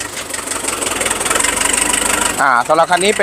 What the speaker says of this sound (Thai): รถไถจอนเดียนะครับ จอนเดียหกสิบแรง